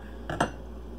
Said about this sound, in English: You don't want to stir it too much because you don't want the meat to fall apart.